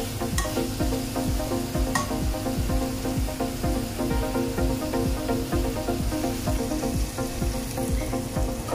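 Chicken tikka filling cooks in a pan for a sandwich, a continuous moderate sizzle overlaid with frequent rhythmic scraping and tapping of a spatula stirring the mixture.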